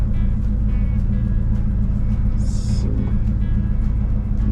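Old Dodge truck with a smoky 318 V8 idling nearby at a sawmill, a steady low rumbling drone with a brief hiss midway.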